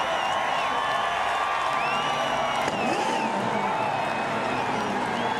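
A large crowd of NASCAR race fans roars and cheers in a grandstand, a dense, sustained wall of noise with whoops and shouts and no break.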